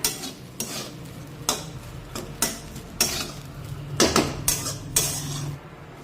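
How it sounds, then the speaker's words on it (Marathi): Spiced rice with vegetables being mixed in a pot, a spoon clanking and scraping against the metal in irregular knocks and clatters, close and alone. "पुन्हा एकदा व्यवस्थित मिक्स करून घेऊया।"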